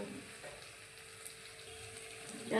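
Bochu fish rubbed with salt and chili powder frying in a pan give off a soft, steady sizzle at low volume, which swells louder right at the end.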